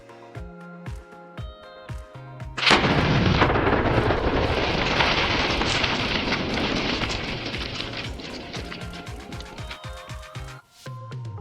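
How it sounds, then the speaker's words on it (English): An explosion rips through a massive tree trunk, a sudden loud blast that erupts into a dense, roaring wash of noise and crackle, slowly fading over several seconds with music playing around it. "the force of the explosion, which vaporized a massive tree trunk in the blink of an eye"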